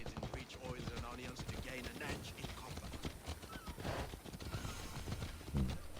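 Horse hooves clip-clop in a steady rhythm in the video game Assassin's Creed Odyssey, faint and close, mixed with ambient game sounds and voices.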